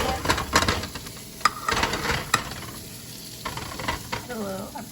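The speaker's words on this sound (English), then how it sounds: "I'm gonna put it on the stove for a bit, so you know the seasoning can cook a little bit." Scalloped potatoes from a packet, with milk, butter and seasoning, cooking in a pan on the stove: uneven, close sizzling crackles mixed with scraping stirs and clatter, followed by a brief voice-like tone near the end.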